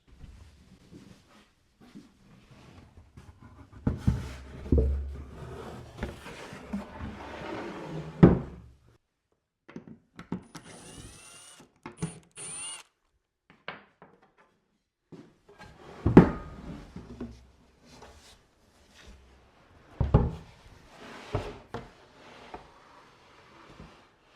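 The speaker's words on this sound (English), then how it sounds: "I'll take the clamps off and see how it works" Clamps come off a glued wooden table saw crosscut sled in a workshop: scattered knocks, clacks and sliding scrapes of metal clamp parts and wood, with quiet gaps between handling bursts.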